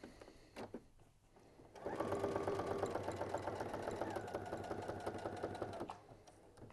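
A sewing machine stitching fabric for a knitting tool caddy, starting after a moment of quiet and then running in a steady, close mechanical whir for about four seconds before stopping.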